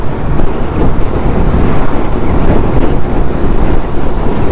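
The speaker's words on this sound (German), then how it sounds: "stellenweise ist der Wind ganz schön heftig" Strong, constant wind roaring and buffeting loudly while riding a Can-Am Spyder, with a dense rumbling rush and no pauses.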